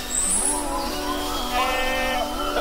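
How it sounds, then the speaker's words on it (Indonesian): A goat bleats in a steady, wavering call lasting a couple of seconds, close and fairly loud over a soft background, as part of an animal-name sequence. "Gonamun kambing."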